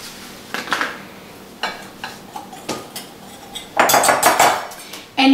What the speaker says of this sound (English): 1 cup of flour in, and also the ranch dressing, the dry dressing that I've told you about. And we are going to mix that up.